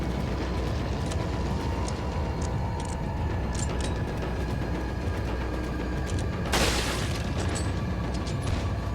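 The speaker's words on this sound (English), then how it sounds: "That's a hell of a fragmentation grenade." A fragmentation grenade explodes in the video game Resident Evil 4, a single sharp burst about two-thirds of the way through, set against steady, continuous game ambience.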